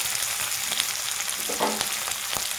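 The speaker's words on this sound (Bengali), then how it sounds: "এই পেঁয়াজটার জন্য হালকা ভাজা হয়ে গেছে" Chopped onion fries lightly in hot oil with bay leaves, dried red chilli and five-spice, a steady close sizzle with a few soft scrapes of a spatula; nobody speaks.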